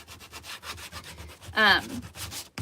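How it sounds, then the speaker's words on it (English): A power sander whirs steadily against the edges of a painted wooden sign, the rough rubbing noise rising sharply for a moment before easing back, close by with no talk. "we're gonna take our sander and we're just gonna do some sanding"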